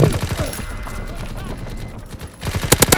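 Rapid gunfire crackles in Call of Duty WWII, a steady stream of shots that ends in a louder, denser burst of close fire, with players talking over it.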